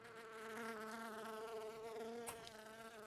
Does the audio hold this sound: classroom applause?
no